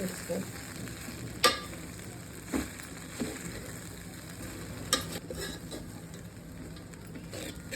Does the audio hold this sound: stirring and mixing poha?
yes